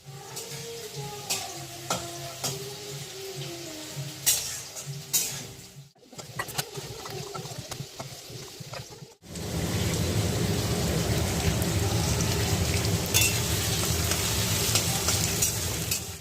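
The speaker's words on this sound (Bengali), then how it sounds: "সবজিটা একটু ভেজে নেবো আর আলুটাও ভেজে নেবো বলে কড়া এখানে তেল দিয়ে দিয়েছি তেল গরম হয়ে গেছে" Vegetables and potatoes go into hot oil in a kadai wok. Quieter stirring and scraping come first, then a sudden, loud, continuous close sizzle takes over for the rest, with no talking.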